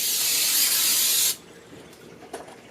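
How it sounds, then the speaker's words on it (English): Cooking spray hisses steadily from an aerosol can onto a casserole dish in a home kitchen, one continuous close burst that stops abruptly, followed by faint handling noises. "we are going to spray our casserole dish"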